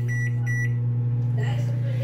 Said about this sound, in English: put this in the microwave.